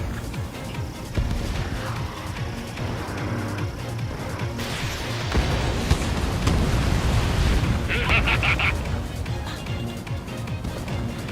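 Enemy aircraft blowing up in the jet combat game Ace Combat 7: Skies Unknown, a loud booming explosion that swells over a continuous roar of jet engines and rumble, with radio voices talking over it.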